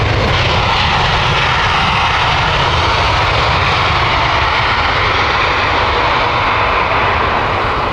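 An Aer Lingus jet airliner at Heathrow Airport passes as a steady, loud, broadband engine roar that holds throughout without fading, with no talk over it.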